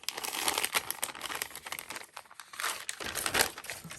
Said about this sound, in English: I love the crinkle sound. This is coffee dyed glassine paper.